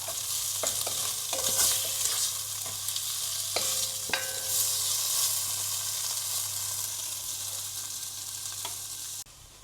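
Beef sizzling in a pan with a knob of butter for a one-pot beef bourguignon, a steady close frying hiss broken by intermittent scraping and stirring clicks, with no talking.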